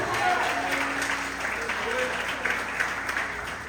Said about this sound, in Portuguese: Pode aplaudir até.